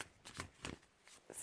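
Past life oracle cards shuffled in short bursts, a few quiet papery flicks and slaps close by with brief gaps between them, no voices.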